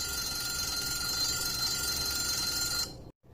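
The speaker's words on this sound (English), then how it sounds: "The alarm clock is continuously ringing" A continuous ringing alarm clock bell fills the clip loudly and steadily, then cuts off abruptly near the end, leaving a brief silence.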